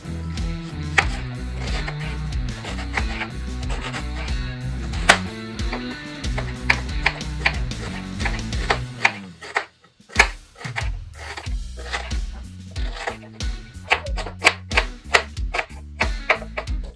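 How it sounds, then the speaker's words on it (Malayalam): A knife chops onion finely on a cutting board for coriander dosa, with rapid, irregular rhythmic thuds that pause briefly near the middle and then resume, under steady background music. "അപ്പൊ നമുക്ക് ഉള്ളി ഒന്ന് കട്ട് ചെയ്തെടുക്കാം."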